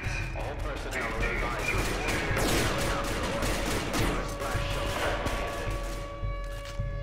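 Rapid bursts of gunfire from people shooting, crackling volleys at a distance mixed with shouting and talk from a crowd nearby.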